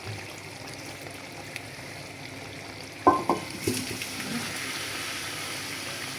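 Chicken skin curry, seasoned with a pinch of garam masala, stirred in a pan: a low steady simmer, then a few distinct scraping knocks of the spoon midway followed by softer stirring.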